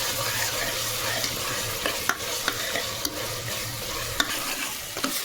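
Ginger garlic paste is stirred into onions frying in oil, giving a steady sizzle with sharp scrapes and clinks of a spoon against the pan at irregular intervals.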